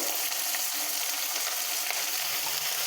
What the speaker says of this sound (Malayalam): ഇപ്പോൾ എണ്ണ നന്നായി ചൂടായി വന്നിട്ടുണ്ട് ഇനി നമുക്ക് അതിലേക്ക് ഒരു സവാള അരിഞ്ഞത് കൂടി ചേർത്ത് കൊടുക്കാം